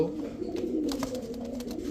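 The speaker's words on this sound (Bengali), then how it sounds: "এক জোড়া রেসার কবুতর অরিজিনাল রেসার" Racing pigeons coo softly nearby in a low, steady murmur, with no other sounds.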